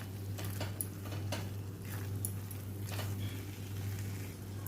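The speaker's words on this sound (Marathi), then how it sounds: "हे बघा असं आपण परतून घेतलं आहे काजूची पीठ घालून" Cashew paste masala sautéing in a pan, a steady low sizzle with occasional stirring scrapes and clinks of a utensil against the pan, continuous and fairly close, no voices.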